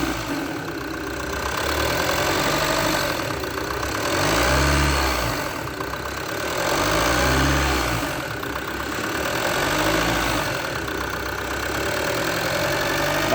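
A Ford Rampage 2.2 diesel engine idles steadily with a low, knocking rumble, swelling slightly in a few slow surges, loud and close with no talk.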